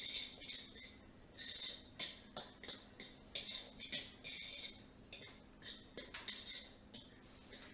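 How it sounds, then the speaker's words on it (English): A fork mixing dry scone ingredients for lavender scones in a bowl, a steady run of light scratchy taps and scrapes in short repeated strokes, close and quiet. "And now we just want to whisk or mix this together. I'm just going to use the fork."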